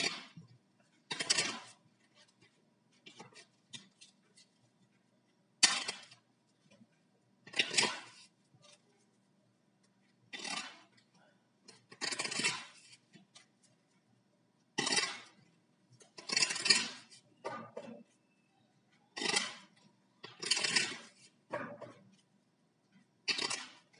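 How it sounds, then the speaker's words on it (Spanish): Repeated bursts of riffling and slapping tarot cards, short shuffles spaced a few seconds apart with near-silence between them. "Vamos a barajar de nueva cuenta las cartas."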